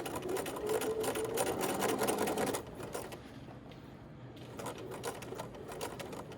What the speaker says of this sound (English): then back stitch when you reach the bottom